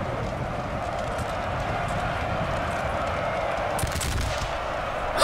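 Musket volley fire from a Napoleon: Total War line battle, a dense, continuous crackle of massed gunshots with a sharper burst of louder shots near the end, no voices.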